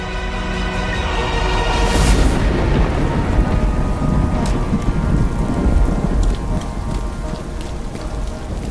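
Heavy storm rain pours steadily on a surface throughout, with a loud thunder crack near the two-second mark and rumbling continuing beneath the downpour, no voices present.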